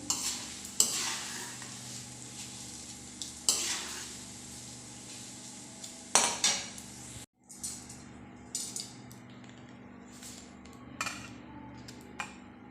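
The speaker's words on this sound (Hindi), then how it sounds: "तो चलिए हम इसे छन्नी में निकाल देते हैं।" Fried poha goes from a hot pan into a metal strainer with intermittent clinks and scrapes of a spoon against metal over a faint background sizzle, sometimes pausing briefly.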